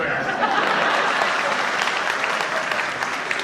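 An audience at a Hindi poetry recital in Panna, Madhya Pradesh claps loudly and continuously, a dense wash of applause with faint chuckles and murmurs in the crowd.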